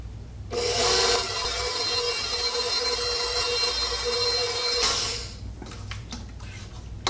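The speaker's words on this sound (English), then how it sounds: "I'm going to use my KitchenAid mixer. I'm just going to use this attachment and I'm going to mix this on low speed" A KitchenAid stand mixer with an attachment runs on low speed for about four seconds, a steady loud whirring hum that starts abruptly and cuts off, followed by quieter scraping and handling noises.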